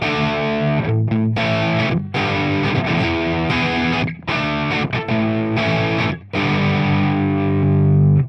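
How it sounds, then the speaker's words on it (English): An electric guitar played through its passive PV bridge pickup, loud distorted chords ringing with brief rhythmic cuts between strums, dense and close with no voices. "This is what the bridge pickup sounds like."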